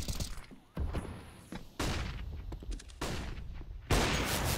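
Gunfire during a kill in an Apex Legends esports match between Vitality and OG: several loud bursts of rapid shots, separated by short pauses, with crackling echoes between volleys.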